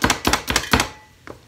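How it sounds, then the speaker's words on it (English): Onion chopped in a food chopper, a rapid run of four sharp blade thunks close together, then a brief pause and one last lighter chop, loud and close with no talking. "already it's chopping really fast"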